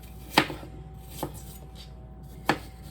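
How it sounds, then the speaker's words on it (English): A knife dices apples on a cutting board, giving three sharp, separate chops spaced unevenly in a quiet room with no talking. "Just be super careful when we're cutting with our knife"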